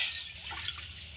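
Water being poured into a wok on the stove for a semolina breakfast, a short steady splashing and trickling that starts strongest and fades slightly over about a second, close and quiet.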